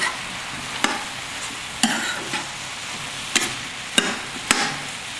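Apples cook in a pan with a soft, steady sizzle, broken by several sharp utensil taps and scrapes against the pan at irregular intervals, close up and with no voices.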